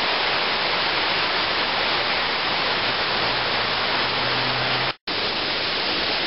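A waterfall roars in a steady broadband rush close at hand, dense and loud throughout, broken only by a brief cut near the end.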